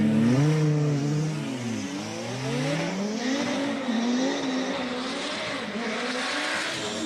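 A Volvo 850 race car accelerates on a circuit at a Cape Town classic car meeting, its engine revving loudly up through the gears with rising and falling tones and shifts, heard from inside or close by.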